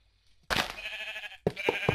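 A goat bleats in Minecraft Hexxit: one drawn-out, wavering cry, then a short fluttering bleat that breaks into quick pulses, close and clear.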